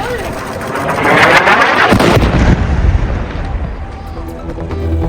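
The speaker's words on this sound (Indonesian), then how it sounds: "Sebuah ledakan terjadi di Gaza Tengah, diduga ini adalah serangan Israel ke daerah tenda-tenda pengungsi." An explosion in a tent area for displaced people in Deir al-Balah, central Gaza, gives a loud booming blast that swells over a couple of seconds, then a rumbling noisy tail as the sound slowly fades.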